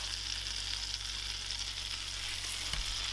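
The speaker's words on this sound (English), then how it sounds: "put that in the frying pan" Steady sizzling of egg-soaked bread for a Monte Cristo sandwich frying in a hot buttered pan, continuous and close, with a low hum underneath and a brief clink near the end.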